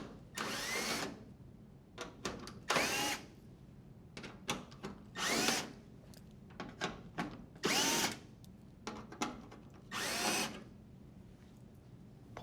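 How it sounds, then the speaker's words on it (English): A power driver unthreads five screws from an appliance backsplash panel in short separate whirring bursts, each a second or so long, with brief clicks and handling noises between them at close range. "Unthread the 5 screws on the panel"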